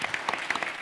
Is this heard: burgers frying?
no